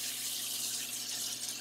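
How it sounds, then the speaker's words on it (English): Cold tap water runs steadily over freshly cooked egg and durum-flour spaetzle in a sink, a loud, close, continuous hiss and splash with no talk. "I'm going to cool it under running water"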